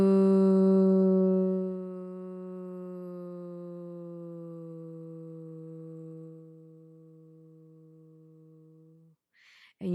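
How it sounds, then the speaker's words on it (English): A person hums a low, sustained "voo" while breathing out slowly for a vagus nerve breathing exercise. The single steady note lasts about nine seconds, drifts slightly lower and softens before fading out, followed by a brief soft rustle. "as you exhale, you basically try to pick a low note to do the VU, and this is gonna stimulate your vagus nerve"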